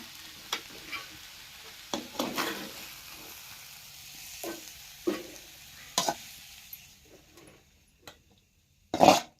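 Ingredients, including cucumber, roasting in a pan for a vegetable palya, stirred in repeated scraping bursts with a soft sizzle, fairly close, and a sharper clatter near the end.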